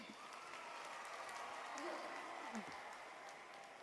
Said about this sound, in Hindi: इसलिए एक बार और जोरदार ताली